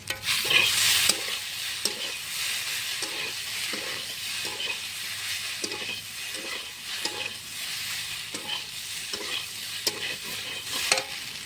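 Taro corm sautéing with spices and chilli powder in a pan gives a steady sizzle, with regular rhythmic scraping strokes of a spatula stirring through it, close and alone with no talk.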